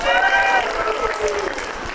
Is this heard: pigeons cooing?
no